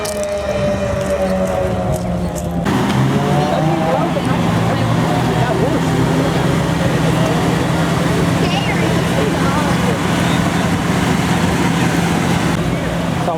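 1985 Toyota Cressida GX71 with a straight-six engine, idling and running steadily at a car show after a fading rev, a constant close rumble with people talking over it.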